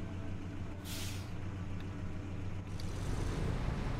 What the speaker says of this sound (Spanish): Tiene pintita que se me atasca el camión